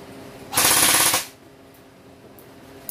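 An ICS AK-47 airsoft rifle, full metal apart from the butt, fires on full auto in one close burst of about two-thirds of a second, a rapid, even stream of clacking shots over a quiet room.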